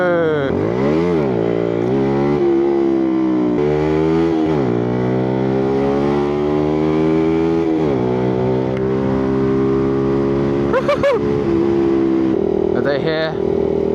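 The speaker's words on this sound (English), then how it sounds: "I gotta love popping the wheelies" Several motorcycle engines rev hard in repeated rising and falling sweeps at a street meet where riders pop wheelies, loud and close throughout, with a sharp high burst near the end.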